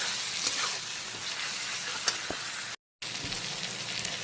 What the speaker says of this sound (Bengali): হলুদের গুঁড়োটাকে পেঁয়াজ আর টমেটোর সঙ্গে খুব ভালো করে এইভাবে মিক্স করে নেব।